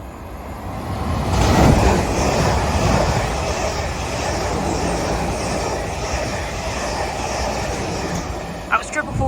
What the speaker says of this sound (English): Passing through now is a South Western Railway service from Weymouth to London Waterloo.